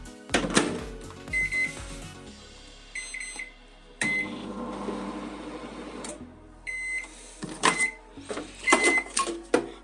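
A microwave oven runs with a notebook inside, giving a steady hum broken by a few short beeps and clicks of the door and controls, loud and close with no talking.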